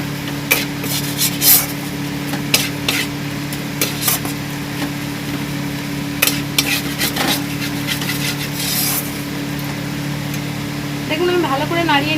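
Malai pyaz sabji being stirred with spices such as Kashmiri chilli powder in a pan, soft scraping and gentle sizzling running steadily under a voice talking nearby.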